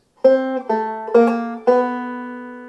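Four plucked notes on a 5-string banjo trace a short bebop dominant enclosure line, each a bright twangy attack ringing briefly before the next, the last note held and decaying, played alone.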